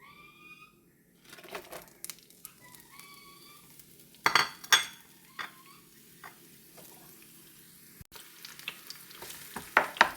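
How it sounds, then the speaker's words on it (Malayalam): Capsicum, onion and dried red chilli frying in hot oil in a pan, with a steady soft sizzle, occasional stirring scrapes and a few sharp clinks of a utensil against the pot. "ക്യാപ്സിക്കം, വല്ലുള്ളിയും വറ്റൽമുളകും നമ്മൾ ജസ്റ്റ് ഒന്ന് എണ്ണയിൽ വഴറ്റിയെടുക്കുകയാണ്."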